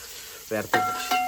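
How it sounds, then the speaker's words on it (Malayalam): Onions sautéed in a hot pan, a soft sizzle broken by two or three quick scraping stirs of a utensil, close and brief. "സവോള ഇങ്ങനെ വാഴച്ചെടുക്കണം ഗൈസ്."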